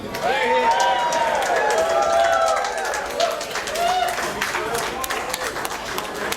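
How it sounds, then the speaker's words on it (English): Wedding guests applaud after a best man's speech, a sustained round of clapping and some cheering, with voices heard over the noise. "Nice round of applause for Brian."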